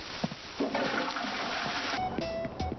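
Toilet flush in Animal Crossing: New Horizons, a steady rushing swirl of water that runs nearly three seconds with faint tinkly game tones near the end, no voices.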